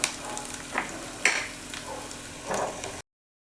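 Chopped green chillies and ginger sizzle in a frying pan with garlic for gobi Manchurian, a steady close crackle with a few sharper spits as the pieces are stirred, no talk.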